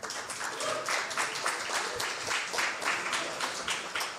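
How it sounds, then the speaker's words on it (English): Audience applause at a gubernatorial debate, a steady wash of many hands clapping that holds at a fairly even level throughout, with no voices standing out above it. "And we're not clapping for Ned doing those things."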